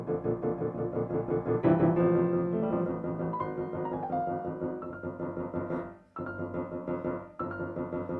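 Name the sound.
piano playing Beethoven Waldstein Sonata passage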